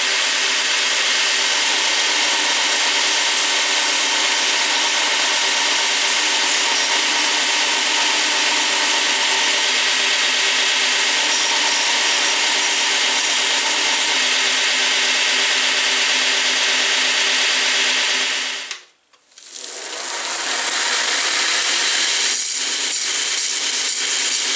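Pine cone knife scales are sanded on a power tool in a long, steady, abrasive grinding whir, close and loud, which briefly cuts out near the end and then resumes, with no talk.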